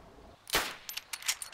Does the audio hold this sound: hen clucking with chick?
no